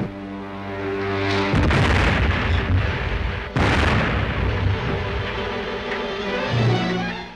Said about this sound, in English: They're trying to bomb us!